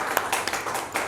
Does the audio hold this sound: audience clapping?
yes